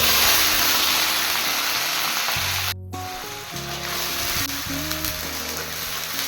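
Onion paste frying in hot oil with cardamom and cinnamon for a prawn malai curry sizzles steadily and loudly, a dense hiss broken by a brief stirring pause and soft scraping.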